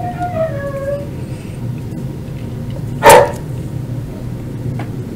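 A single dog bark sounds once partway through, fairly loud against a steady low room hum, with no talking around it.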